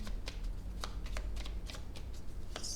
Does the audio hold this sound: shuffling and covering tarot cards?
yes